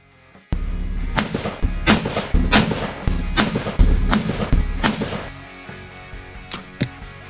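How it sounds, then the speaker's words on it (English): Rifle or gun fired during backyard target shooting before deer season: about nine sharp, loud reports at roughly even intervals, each with a short echoing tail, close by and with no talking. "I was just out there target shooting"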